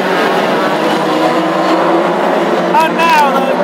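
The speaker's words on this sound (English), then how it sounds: "All five cars, nose to tail, as they thunder down the back straight once again" Five hot rod race cars at the Lochgelly Scottish Open Championship final roar down the back straight nose to tail, a loud continuous engine drone under excited commentary.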